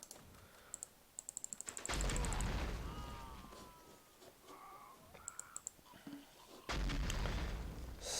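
Artillery and gunfire in the World War II strategy game Close Combat Cross of Iron: heavy booming blasts at the start and near the end, with rapid clicky bursts of fire in between and some distant shots during quieter stretches.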